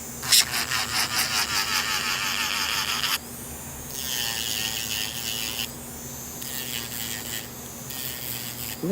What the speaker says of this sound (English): Cleansing in my cuticle area using the zebra sanding band